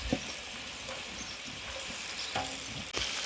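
Mint, thyme, green chilies and curry leaves fry in hot oil in a home kitchen, giving a steady close sizzle with a few soft stirring scrapes.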